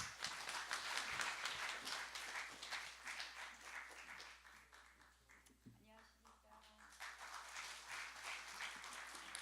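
Applause from the audience at a parliamentary forum in the National Assembly, broad clapping that rises at the start and fades, with voices and speech heard over it in the middle.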